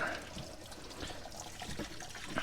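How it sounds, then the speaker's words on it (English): Running water rinses a freshly dyed disc golf disc and the dye plate, a steady splashing trickle for the whole stretch, moderately close with no talking over it. "Go ahead and wash down your plate as well."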